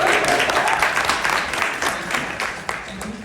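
An audience at a stand-up comedy special bursts into applause, a dense wash of clapping that starts loud and slowly tapers over a few seconds.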